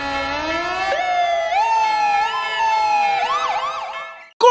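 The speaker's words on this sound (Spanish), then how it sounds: "Es mi querido compañero, el camión de los bomberos" A fire truck siren wails loudly and close, its pitch rising and falling in repeated sweeps, then breaks into quicker yelps before a short sharp burst at the end.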